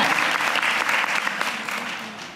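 Audience applause at a Pond's event, a burst of dense clapping from a crowd, steady and fairly close, tapering slightly toward the end.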